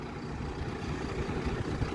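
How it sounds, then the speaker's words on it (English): Ipswich Buses bus engine rumbling steadily near the River Orwell, a dense low drone with a constant level and no voices over it. "We have Ipswich bus."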